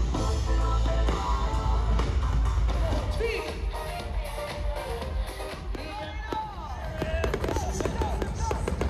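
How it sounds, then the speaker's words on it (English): New Year fireworks, a dense run of crackles, pops and bangs at a distance, heard alongside crowd noise and some talk. "Fireworks and parties"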